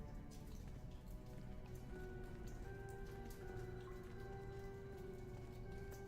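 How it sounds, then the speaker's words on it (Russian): Soft steady rain patters continuously in a video game, a faint even hiss of drops with a few quiet tones drifting beneath it. "Я думал, дождь на улице идет, а это в игре."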